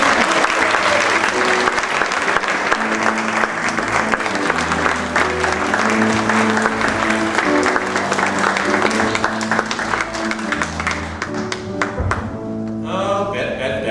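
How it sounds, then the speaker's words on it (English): Studio audience applauding as a guest comes on a late-night talk show, a loud, dense wash of clapping held throughout, with a steady musical band fanfare playing underneath and tapering near the end. "Please give her a applause."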